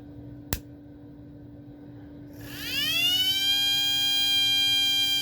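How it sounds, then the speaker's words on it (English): Apex F-901 fire and burglar alarm siren horn winding up after a single click, its motor-driven rising tone climbing and then holding as a steady, fairly loud wail that fills the rest of the clip. "So it is a siren horn."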